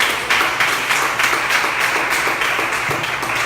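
Church congregation applauding together, a dense steady wash of many hands clapping with no pauses, fairly loud and close throughout.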